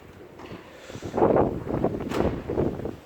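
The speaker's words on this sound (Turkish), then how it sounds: "Acayip bir rüzgar var" Gusty wind roars against the microphone in swelling bursts, rising and falling with no voices.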